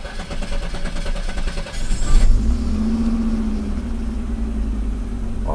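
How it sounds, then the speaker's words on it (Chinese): An Audi 90 engine being shut off and restarted after repair, the running rumble cutting briefly before the engine catches again and settles into a steady, loud idle hum, no talking. "好，重新启动。"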